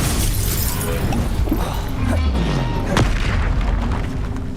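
Explosive blast spells such as Confringo and Bombarda cast in the game Hogwarts Legacy, a loud, close succession of heavy booms and crashing impacts with shattering debris, one sharp strike standing out near the end.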